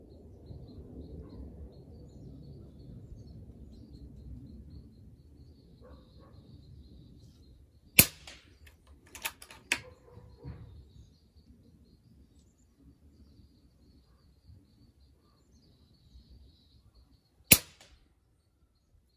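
FX Wildcat MK3 air rifle with a power plenum firing .25 FX Hybrid pellets outdoors, sharp close cracks: one at about eight seconds, a quick cluster of three soon after and a final shot much later, over faint background hum.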